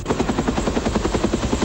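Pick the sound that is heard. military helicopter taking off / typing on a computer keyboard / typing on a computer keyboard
military helicopter taking off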